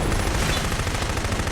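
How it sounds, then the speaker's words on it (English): Rapid cannon shells fired from a turret in the video game Killzone 3, a dense, continuous barrage of loud booming shots packed tightly together with no pauses and no speech over it. "Fire cannon shells."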